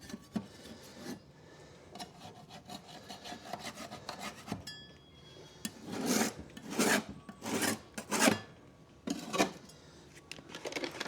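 A metal file rasps against a lawn mower blade during sharpening, with repeated scraping strokes that grow louder and more rhythmic in the second half, close and alone without speech.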